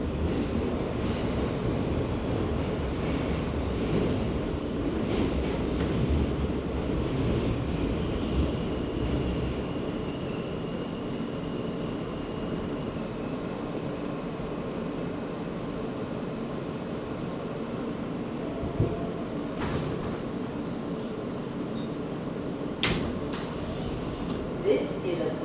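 Brooklyn-bound R local subway train riding through New York City, a steady loud rumble of wheels and car body running throughout, with a few sharp clanks toward the end.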